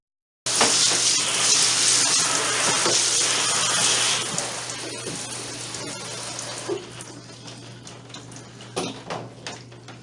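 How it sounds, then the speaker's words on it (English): Water gushes from a kitchen sink faucet while rusty tools are scrubbed, a loud steady stream with a low hum underneath, easing off after a few seconds into splashing and scattered clinks and knocks. "I'm going to take the tools themselves in and scrub them in the kitchen sink"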